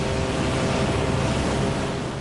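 Open sea waves surge and rush in a loud, continuous wash of broadband noise with a low rumble underneath, with no voices present.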